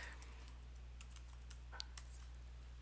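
Soft keyboard typing at a computer, a scattering of light, irregular key clicks over a steady low electrical hum, fairly quiet and close, with no voices.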